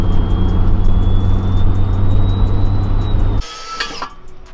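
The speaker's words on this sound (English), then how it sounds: "I just want to listen to this turbo." A parts car's turbocharged engine runs loud and close, a steady deep rumble topped by a thin, slowly rising turbo whistle, then the roar cuts off abruptly, leaving lighter clatter and hiss.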